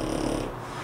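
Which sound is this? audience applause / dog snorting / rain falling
dog snorting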